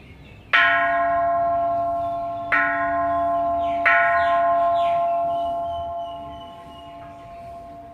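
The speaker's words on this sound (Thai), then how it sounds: "มีคล้องมีระฆังให้เคาะนะคะ" A temple bell at Wat Phra Pathom Chedi in Nakhon Pathom, Thailand, is struck three times, each strike ringing out loud and clear, its rich tone slowly decaying between hits.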